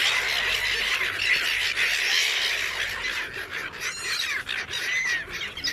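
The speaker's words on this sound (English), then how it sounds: "we're here feeding the seagulls" Seagulls squawking and squealing while being fed chips on an island, a dense chorus of overlapping calls close by with some sharper cries standing out.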